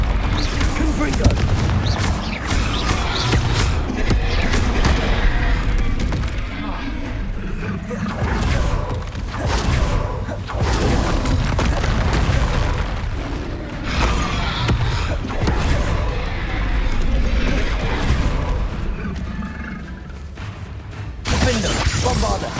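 Hogwarts Legacy combat with repeated spell blasts from Confringo, Bombarda and similar spells, a dense stream of booms, bangs and shattering bursts over a continuous game soundscape, loud and close throughout.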